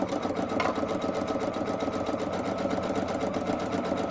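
A sewing machine runs a continuous rapid stitch along the edge of a round cushion form cut down from a square one, giving a steady mechanical chatter at moderate volume with no speech.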